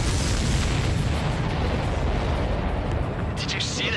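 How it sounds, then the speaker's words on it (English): Supply ship blowing up in Ace Combat 7: Skies Unknown, a loud, deep, sustained roaring blast that rumbles for several seconds before easing, with game radio chatter briefly over it. "Did you see that explosion?"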